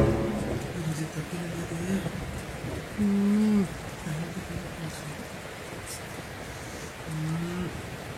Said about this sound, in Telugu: వర్షం ఏంటి ఇలా పడుతుంది?